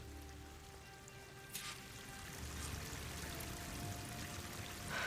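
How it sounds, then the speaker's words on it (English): A waterfall in the video game Horizon Forbidden West gives a steady, broad rushing wash of falling water, fairly faint and continuous, growing slightly fuller midway, with no talk. "That waterfall must be coming from somewhere."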